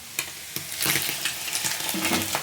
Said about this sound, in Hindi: पनीर को बस हल्का सा हमें फ्राई करना है